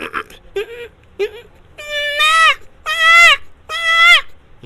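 A man imitates goat bleats with his voice, a few short nasal cries followed by three long, loud wavering bleats, close and alone.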